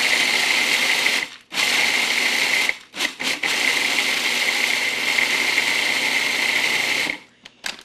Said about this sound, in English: So you do this in a food processor because this would be very difficult to do if you're doing it by hand.